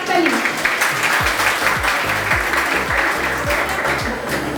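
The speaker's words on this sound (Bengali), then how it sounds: "একটু হাততালি।" An audience at a college campaign event claps for the fourth-place group, a steady wash of applause lasting several seconds, mixed with music or tonal sounds and murmuring voices.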